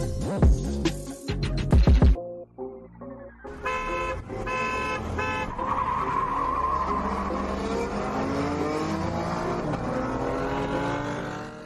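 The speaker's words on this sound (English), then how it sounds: "now we're going to race these cars" Ford Mustang and Chevrolet Camaro launch from a standstill in a race, engines revving hard with rising gear-by-gear pitch, a brief gap, then sustained loud acceleration drone.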